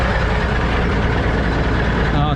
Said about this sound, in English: my truck's kind of loud